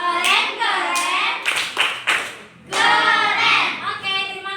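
A church youth group performs the rhythmic 'tepuk keren' clap, bursts of synchronized clapping mixed with chanted voices in a lively, patterned cadence.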